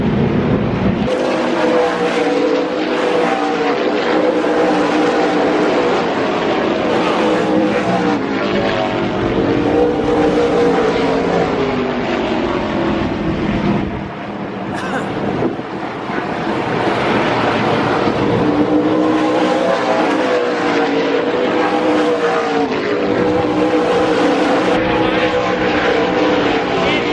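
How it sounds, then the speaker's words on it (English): Racing cars at a practice session in Alabama, a loud, continuous roar of engines that stays dense and steady throughout, with a brief dip midway before the roar swells back. "Oh, that's a lot of engine noise going on."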